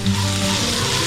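Sliced onions frying in a pan for bonda filling, giving a steady, loud, close sizzle and hiss that runs without a break throughout.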